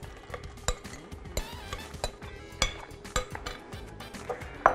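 A spoon stirs food coated in onion sauce in a pan, producing repeated clinks and scrapes against the metal at an irregular rhythm, close and fairly quiet, with a faint background tone.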